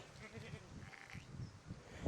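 Sheep bleating at a farm, several calls rising and falling over a couple of seconds, quiet and somewhat distant with steady outdoor background noise.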